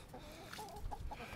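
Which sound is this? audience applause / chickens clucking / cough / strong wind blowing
chickens clucking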